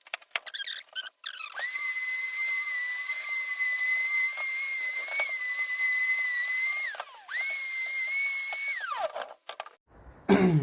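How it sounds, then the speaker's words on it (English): A power sander with 120-grit paper runs over a scaffolding board, giving a steady high whine that sags in pitch twice as it slows, heard up close and alone. "I'm going to give it a quick once over with the 120 sandpaper"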